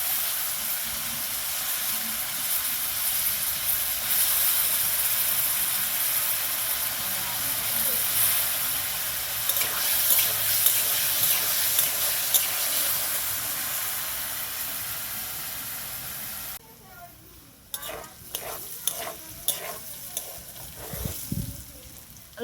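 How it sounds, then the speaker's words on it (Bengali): Potatoes frying in hot oil, a steady close sizzle and hiss that later breaks into sharper crackles and spatters as the oil settles, with a voice talking faintly at times. "এখন আমি আলুটাকে ভেজে নেব।"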